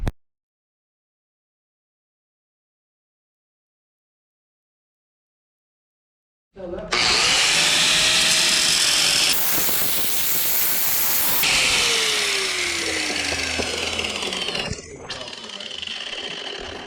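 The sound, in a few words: power tool cutting muffler tip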